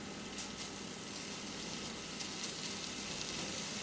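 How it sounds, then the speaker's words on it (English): A beef burger patty for a frita cubana sizzles steadily in a hot pan over medium heat, a soft, even hiss heard quietly with no talking. "If that burger isn't sizzling right away, then you don't have it hot enough"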